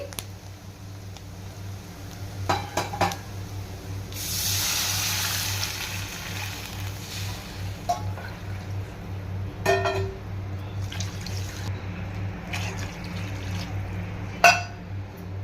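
Water pours for a couple of seconds into a pan for making upma, followed by scattered clinks and light kitchen handling against a low hum.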